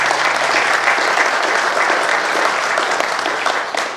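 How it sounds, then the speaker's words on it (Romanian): Dense, sustained applause from an audience at a book launch in Bacău, loud and close, fading slightly at the very end. "Haideți să-i aplaudăm un pic."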